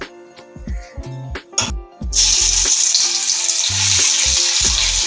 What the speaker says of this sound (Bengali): তেলটা গরম হয়ে গেছে, আমি এবার রসুনটা দিয়ে দিচ্ছি।